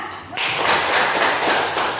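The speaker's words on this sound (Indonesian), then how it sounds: "Tepuk tangan" Classroom applause: after a short quiet moment, many hands burst into dense, continuous clapping that stays loud and close to the end.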